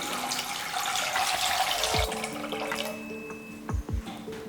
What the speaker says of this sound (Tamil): இப்போ அதுக்கு 1 லிட்டர் அளவுக்கு தண்ணி ஊற்றிக்கிறேன்.